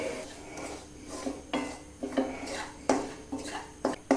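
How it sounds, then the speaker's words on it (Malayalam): A spoon stirs ground spices such as pepper and turmeric in a pan for beetroot stir-fry, making close metallic scrapes and clinks in an irregular rhythm with no talk. "നല്ലപോലെ ഇളക്കി കൊടുക്കുക."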